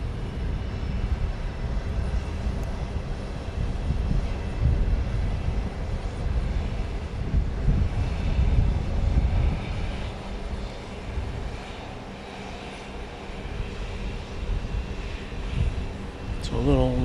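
A jet airliner descended from the DC-9 and MD-80 line at Dallas Love Field at night, its engine roar a steady broadband rumble filling the whole stretch under a layer of airport ambience.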